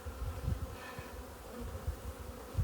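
A dense hum of honey bees circling a heather honey hive, steady and near, with brief louder passes as single bees zip close by.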